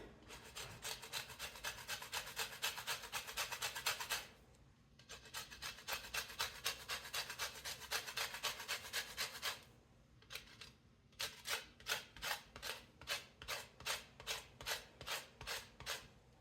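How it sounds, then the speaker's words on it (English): A lemon is zested against a grater in a home kitchen while making one-pot pasta, giving dry rasping strokes in two long sustained runs, then a quicker series of short, rhythmic scrapes, close and fairly quiet. "A little bit of lemon zest."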